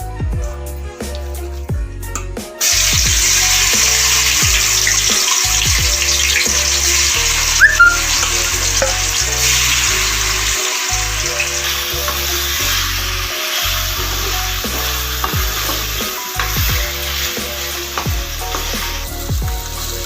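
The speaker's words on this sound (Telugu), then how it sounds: "ఈ చికెన్ని దానిలో వేసుకుని వేయించుకోవాలి" Marinated chicken frying in hot oil in a pot, a loud, steady, close-up sizzle that holds for the whole stretch, with occasional stirring scrapes and background music.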